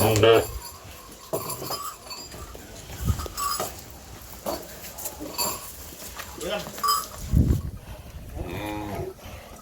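Deep moos rise now and then from native-breed cows in a farmyard, mixed with people talking and other shuffling noise nearby.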